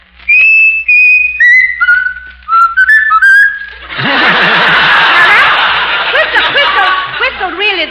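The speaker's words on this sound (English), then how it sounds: "Now, Raffles, you're gonna whistle" Raffles the talking mynah bird whistles a tune in a run of clear, stepped notes. The whistling gives way to loud studio audience laughter that rolls on to the end.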